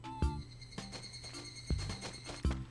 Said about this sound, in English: So we gotta listen for crickets